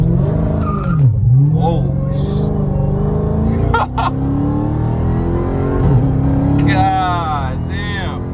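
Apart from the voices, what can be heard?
2021 Dodge Charger Redeye Widebody launch control acceleration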